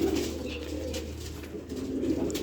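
Pigeons coo softly close by, their low throaty calls running steadily over a faint background hum.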